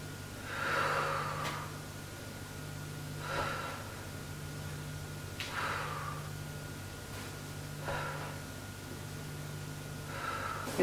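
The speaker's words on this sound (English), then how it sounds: "Exhale every time you extend. Inhale." During a core exercise a person breathes rhythmically, with five slow, soft, drawn-out breaths spaced about two seconds apart over a low steady hum.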